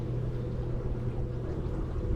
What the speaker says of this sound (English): What was that noise? Another boat.